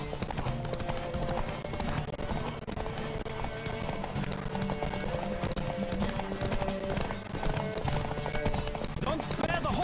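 A horse gallops in The Witcher 3: Wild Hunt, its hooves clip-clopping in a fast, steady rhythm that continues throughout, with game ambience around it and no clear speech.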